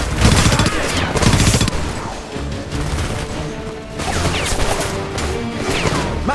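Machine gun fire rattles from a first-floor window in Homefront, loud rapid bursts mixed with crashing impacts and battle noise, with shouted voices partly over it.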